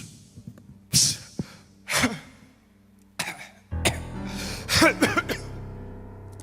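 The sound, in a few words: cough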